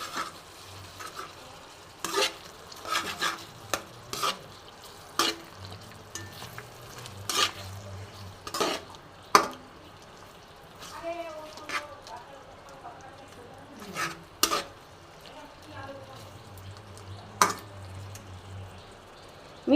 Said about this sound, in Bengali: এইবার ডালটার সাথে দেখো আমি চিকেনটা ভালো করে মিশিয়ে নেব।